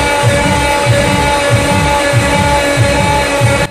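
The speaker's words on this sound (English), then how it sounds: "SD40 locomotive engine" An EMD SD40 six-axle, 16-cylinder, 3,000-horsepower diesel locomotive engine runs with a loud, steady mechanical drone and a regular low throbbing pulse about three times a second, continuous throughout and cutting off at the very end.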